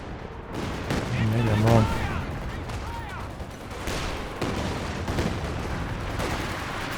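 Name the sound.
anti-tank overwatch gunfire in Company of Heroes 2 video game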